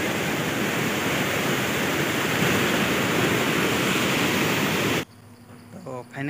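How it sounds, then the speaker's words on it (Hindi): Water rushes through mountain rocks at Sanaghagara in Keonjhar, Odisha, a loud, dense, steady roar of white water that cuts off abruptly near the end, leaving quieter background and a voice. "और पहाड़ चीरते हुए जा रहा है पानी सब।"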